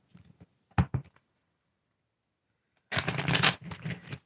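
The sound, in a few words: shuffling tarot cards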